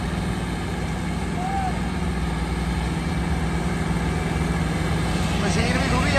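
A tractor's engine keeps running as the tractor sits stuck in a soaked field, unable to move. The low, steady rumble holds evenly throughout, with someone speaking over it.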